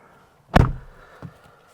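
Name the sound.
Lexus IS300 car door closing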